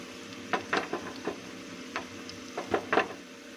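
Bursts of sizzling and crackling as chilies drop into hot oil for a dal tadka, several short hissing flares spread across the clip, close up, with no talking.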